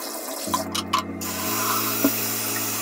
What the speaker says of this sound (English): Dump out the water and refill the tank.